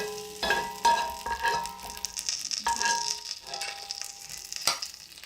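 Freshly toasted peanuts crackling and sizzling in a bowl, a close cluster of sharp pops and ticks over a faint hiss, with no talking.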